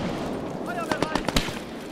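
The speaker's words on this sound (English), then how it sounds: "I'm taking machine gun fire!" Rapid machine gun bursts ring out in a World War II combat game, a run of sharp cracks in quick succession over a steady battle din with shouted voices nearby.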